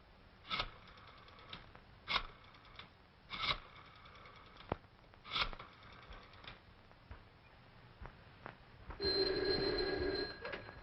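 Old-fashioned telephone bell in a classic detective radio drama, ringing in repeated short bursts at a steady rhythm, fairly close, ending in a longer buzzing tone.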